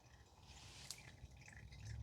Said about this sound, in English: I hope you can hear it dripping into the bottle.